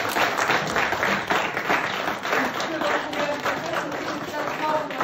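Steady, dense crowd applause at a music album signing event, many hands clapping continuously at close range with some chatter mixed in underneath.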